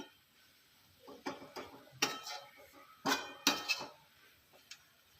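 Crispy fried peanut chutney rattles in a kadhai as it is swirled around, giving several bursts of dry clinking and scraping spread over a few seconds, close by with quiet gaps between them.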